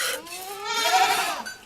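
A goat bleats loudly and close by on a milking stand during hand milking, one long wavering cry that rises and then trails off, with no talk over it.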